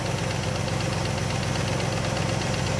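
A 1967 Buick GS 340 V8 idles steadily after fresh spark plugs replaced worn ones, a continuous low, even engine rumble with a slight knocking pulse, close and alone without voices.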